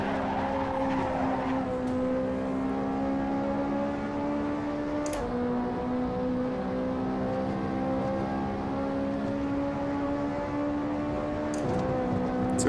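A Ferrari 458 Italia racing on the Nordschleife in Assetto Corsa, its engine holding a steady high whine with brief dips at gear shifts, loud and continuous with faint tyre noise beneath.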